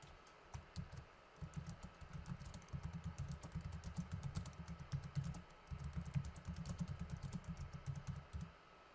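Typing on a computer keyboard, a rapid run of faint, close key clicks in bursts with short pauses between them.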